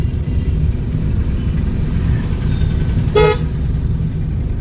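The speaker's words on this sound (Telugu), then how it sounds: "డివైడర్ పక్కనే ఉండండి, హార్న్ కొట్టాలి." Road traffic rumbles steadily while a car horn gives one short toot partway through, during a driving lesson beside a road divider.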